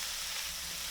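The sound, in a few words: chopped red pepper frying in warm pan, stirred with silicone spatula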